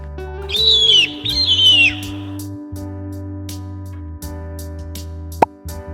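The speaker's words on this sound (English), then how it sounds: "Eagle." A bird call standing in for an eagle in a children's animal-sound sequence: a couple of high, descending shrill cries in the first two seconds, then a low steady background hum with a sharp click near the end.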